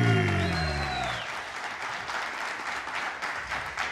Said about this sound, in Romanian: Aplauze pentru Lucian Ogri!